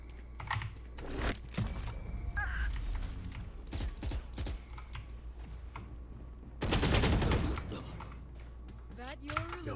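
Gunfire in a video game, with bursts of quick shots mixed with clattering keyboard typing and people talking, ending in a loud sustained volley.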